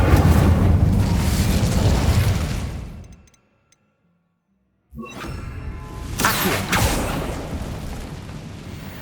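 Incendio fire spell cast in the video game Hogwarts Legacy: a loud roaring burst of flame and rumble that cuts to near silence for over a second, then a fresh whooshing, crackling blaze surges back, loud and without speech.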